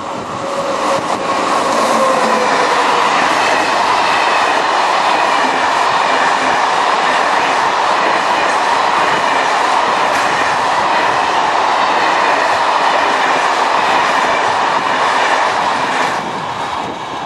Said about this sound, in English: So here we are on the next train, making our way along the banks of the Garonne back to Bordeaux.